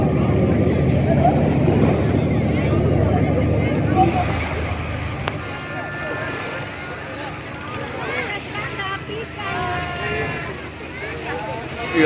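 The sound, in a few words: sea boat (speedboat) on the river at Shimulia Ghat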